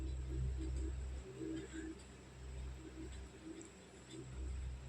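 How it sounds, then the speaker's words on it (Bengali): Pigeons coo softly in low, rounded murmurs over a steady background hum, several coos rising and fading across the stretch with no one speaking. "তোমাদের সঙ্গে একটু পায়রাদেরকে শেয়ার করে নিলাম"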